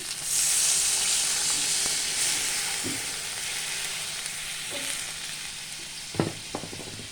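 Water hits a hot frying pan holding greens and chillies, giving a loud steady sizzle that slowly fades, with a few clinks of a utensil stirring near the end.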